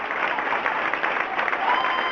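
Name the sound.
applause for a band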